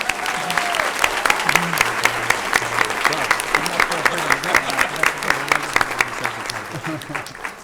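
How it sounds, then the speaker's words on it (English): An audience applauds students headed to the FIRST Robotics World Championship at a school board meeting, steady dense clapping filling the room, with a voice speaking faintly underneath. "Let's give them a round of applause."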